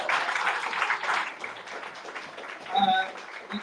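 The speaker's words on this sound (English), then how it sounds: "a round of applause for Mary Fair" An audience applauds storyteller Mary Fair at a live kamishibai show, a broad patter of clapping from a modest crowd that tapers off as a voice talks over it and a few clinking sounds follow.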